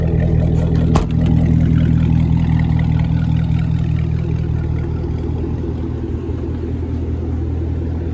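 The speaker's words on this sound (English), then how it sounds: "Absolutely love the sound of these CTS-Vs." A 2010 Cadillac CTS-V with dual exhaust idles with a loud, deep steady rumble up close, a brief blip near the start, then the even burble continues throughout.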